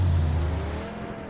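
A car engine in a video game, loud and close at first with a revving roar that eases and fades over a second, alone without talk.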